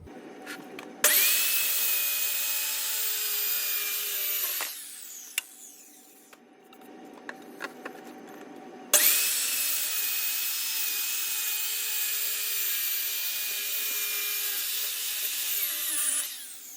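A power saw cuts a wooden cabinet filler board in two long, loud, steady passes of about four and seven seconds, with a high whine and a brief quieter pause of small knocks between them.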